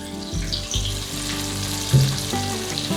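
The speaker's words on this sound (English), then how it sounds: "Alright, so let's add the onions." Onions sizzle and crackle loudly in a hot pan, with a close, steady frying hiss and a brief burst as they are stirred or added.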